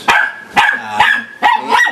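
A dog barks four times in close, loud bursts, evenly spaced with short gaps, with no talking around them.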